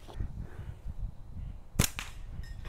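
A slingshot fired with a latex band, one sharp snapping release standing out loud and close over a low rumbling background, with a fainter crack near the end.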